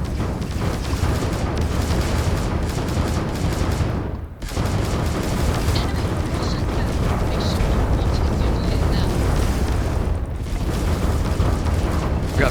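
Ship-mounted ballistic turrets on a Class C dreadnought firing during a space battle in Starfield, a steady loud mechanical clatter of rapid shots with booming impacts, briefly cutting out twice.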